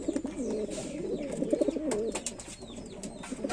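Several Giribaj and Lotan pigeons coo continuously in a loft in low, overlapping burbling calls, close by, with light chirps and clicks scattered above them.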